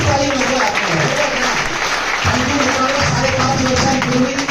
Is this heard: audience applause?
yes